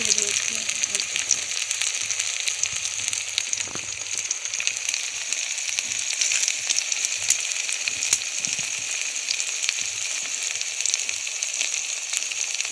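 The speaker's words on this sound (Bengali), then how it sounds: "বড়া ভাজি হচ্ছে চিংড়ি মাছের বড়া" Prawn fritters bubble and crackle in hot oil, a dense, continuous sizzle with scattered pops, heard close up over a long stretch with faint background voice.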